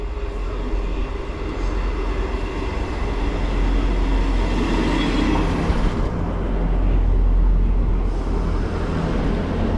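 A ScotRail class 158 diesel multiple unit stands at a station platform, its engine giving a steady low rumble and drone that swells slightly before easing.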